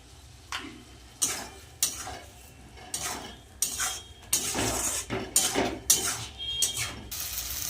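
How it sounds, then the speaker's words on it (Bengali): Spices with salt, turmeric and chili powder being stirred and sautéed in oil for a Bengali fish curry, a utensil scraping the pan in repeated strokes about every half second, with a soft sizzle underneath, close and moderately loud. "মশলা ভালো করে কষিয়ে নিয়েছি তেল ছেড়ে দিয়েছে মশলা থেকে"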